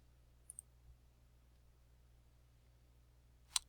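Computer mouse click while selecting a spreadsheet cell, heard as a faint pair of quick clicks near the start and one sharper, louder click at the end, separated by quiet room hum.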